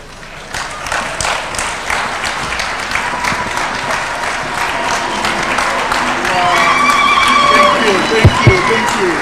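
A celebration audience bursts into applause during a presidential speech, dense loud clapping that swells and holds, with crowd voices mixed in.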